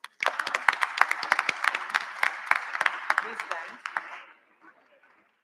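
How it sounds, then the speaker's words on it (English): At a youth parliament closing ceremony, the hall claps for the UNICEF delegates with sharp, distinct hand claps that build quickly, hold for about four seconds, and then taper off into near silence. "the delegates of UNICEF deserve a huge round of applause"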